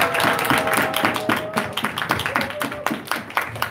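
A church high-school youth group claps for seniors who have just finished their college entrance exam, a fairly faint burst of many hands clapping unevenly in a room, with voices mixed in.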